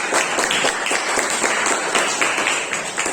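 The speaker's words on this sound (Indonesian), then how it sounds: "Boleh tepuk tangan." Applause from an audience closing a university lecture on food size reduction, a steady wash of many hands clapping throughout at moderate level, with no talk over it.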